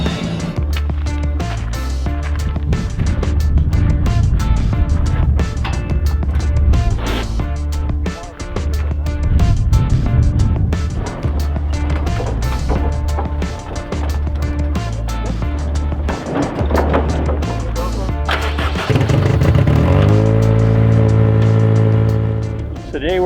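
Second-generation Acura Integra (DA) race car lapping a small go-kart track near Tucson: a loud, close engine note rising and falling through gear changes, with a sustained high rev toward the end.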